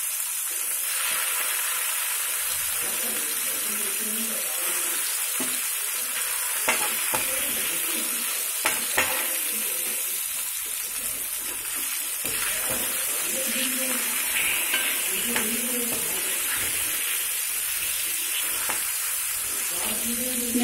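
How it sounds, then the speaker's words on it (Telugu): Pieces of bochu fish, salted to keep them from sticking, fry in a pan with a continuous loud sizzle and occasional scraping, while a voice talks faintly at times. "ఈలోపు ఈ చేపలు వేయించుకున్నాం కదా."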